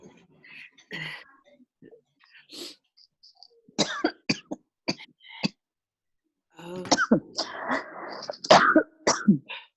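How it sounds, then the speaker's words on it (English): Scattered coughs and throat clearing, some soft and breathy, others sharper in quick clusters, close by with brief pauses between bursts. "just coughing"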